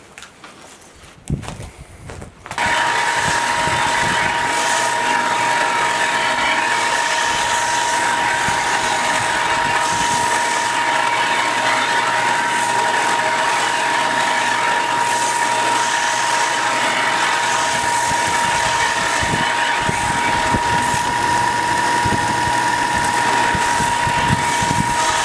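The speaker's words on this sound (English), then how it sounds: "So I'm going to get my sander set up and then go to work sanding." A power sander works an Osage Orange walking cane, droning steadily and loudly after a brief quiet start, with a constant whine and rough grinding texture throughout and no voices.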